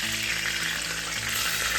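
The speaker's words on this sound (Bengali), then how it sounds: "বেগুনগুলো ভাজা চলছে এখন" Steady, bright sizzling of eggplant frying in hot oil, continuous and close, with no talking.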